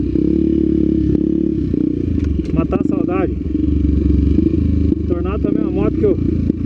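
A Honda Tornado motorcycle engine runs close by with a steady low thrum and a mechanical clatter, while someone talks over it and briefly whistles.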